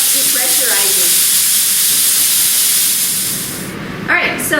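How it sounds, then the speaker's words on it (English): Steady, loud hiss of steam escaping from a pressure canner as it depressurizes during fish canning, fading slightly near the end before a brief voice cuts in. "we released the pressure, the steam on this, and the gauge is back down to 0 now"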